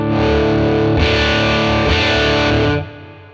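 A Les Paul guitar with a crunchy, overdriven tone from a Fender 1957 Tweed Bassman amp model strikes three full distorted chords in steady succession, then rings out and fades, with no talking.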